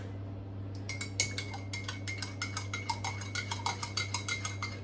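Metal spoon stirring two sweeteners into a drink in a cup, giving a steady series of light clinks and scrapes against the sides, close and fairly quiet over a constant low hum.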